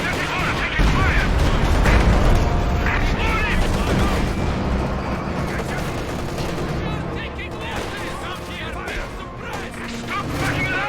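Dense gunfire and explosions from the World War II strategy video game Company of Heroes 2 form continuous crackling volleys and heavy booms, with in-game unit voices calling out over the battle.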